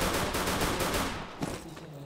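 Rapid automatic gunfire in a video game rattles off as a dense burst of repeated shots, loud and close, then cuts off, leaving a brief quieter tail.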